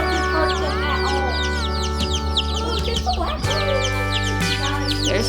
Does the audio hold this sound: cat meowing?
no